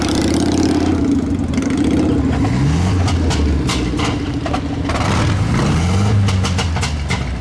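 Several cars rev hard at a seaside breakfast-run car meet, engines rising and falling in overlapping loud, close sweeps over a constant mechanical roar.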